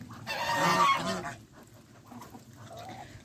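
Geese honk and ducks and chickens call loudly at close range in a burst, then softer clucks and calls continue.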